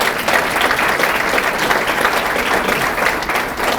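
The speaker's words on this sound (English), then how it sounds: "give a round of applause for our wonderful food service" A large audience at a civic luncheon claps for the food service, dense, loud and sustained applause filling the room from start to finish.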